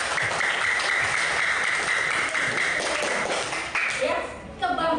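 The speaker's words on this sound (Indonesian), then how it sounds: "Tepuk tangan buat Reza." Primary school children in a classroom clap together in a steady patter that continues throughout, mixed with voices talking and a brief tonal sound toward the end.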